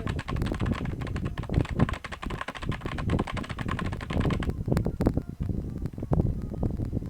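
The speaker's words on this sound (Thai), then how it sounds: "ไม่งั้นเสียงคีย์บอร์ดเข้าเต็มๆไม่ได้ยิน" Someone types on a computer keyboard while playing the rhythm game Funky Friday, with a dense, rapid clatter of keypresses close to the microphone and a brief lighter stretch near the end.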